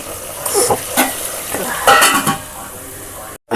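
Freshly crushed garlic cloves sizzle and spit in a hot-oil tempering, a loud, close crackle with irregular bursts as it is stirred in the pan.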